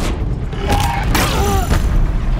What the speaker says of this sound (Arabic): يا انفجار